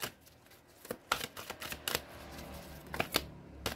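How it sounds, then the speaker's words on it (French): Oracle cards being drawn from a deck, a series of quick papery slides and flicks, close and fairly quiet, clustered in short bursts with pauses between them and no talk. "Je vais tirer plusieurs cartes"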